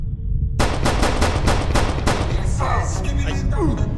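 Rapid bursts of automatic gunfire in the Skibidi Toilet horror video game, loud and close, rattling in a quick regular rhythm before giving way to scattered game sounds and faint voices.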